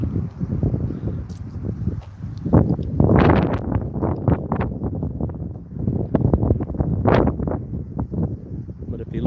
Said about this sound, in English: That's how hard the wind's blowing here.